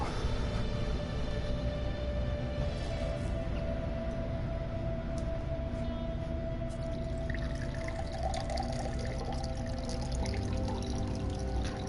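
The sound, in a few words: pouring water into a glass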